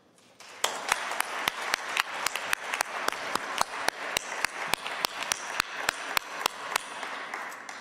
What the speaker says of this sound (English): So that was excellent applause.